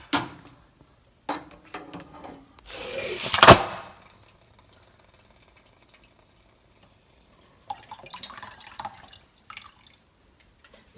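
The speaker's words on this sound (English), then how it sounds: "we are going to quickly take the can and place it into the water" A hot can plunged upside down into a bowl of water after the burner is shut off, making a short loud hiss and splash, followed by quiet and then faint trickling water sounds.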